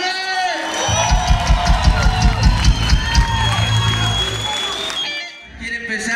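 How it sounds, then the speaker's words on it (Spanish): A crowd cheers and whoops at a 25th-anniversary celebration, with loud rhythmic clapping or stomping pounding steadily underneath for about five seconds before a brief drop. "Para que un aplauso enorme."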